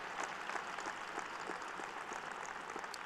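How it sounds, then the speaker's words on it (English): Faint, steady applause from a large audience at a 2024 winter university commencement ceremony, a soft continuous patter of many hands heard from a distance. "Give him a big hand and applause for everything that he's done."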